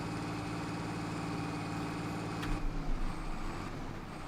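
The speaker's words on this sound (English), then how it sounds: "Actually, let's try to go, because I've upgraded the engine." An upgraded vehicle engine in Farming Simulator 25 holds a steady, moderately quiet hum, then a deeper chugging rumble rises about halfway through as the machine pulls away.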